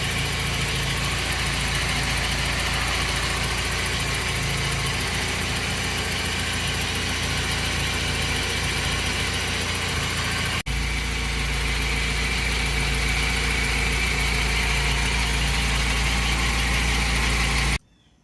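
A BMW 318is E30 with the M42 engine idles steadily and loudly after its first start following an intake overhaul, running smoothly and close up throughout before cutting off abruptly.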